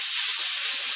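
Hamburger patties searing in a pan, a loud, steady, bright hiss of sizzling fat filling a brief moment without pause.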